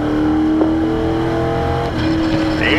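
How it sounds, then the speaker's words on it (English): A race car, number 29, has its throttle opened wide, with a loud, sustained engine drone and a strong steady tone held close for about three seconds. "Roll in the gas. Open it up right now."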